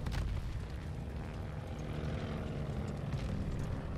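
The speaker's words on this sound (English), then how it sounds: "That's a plane!" Propeller aircraft passing overhead in the Call of Duty: Vanguard World War II game, heard as a loud, steady low engine roar with broadband rumble that holds throughout.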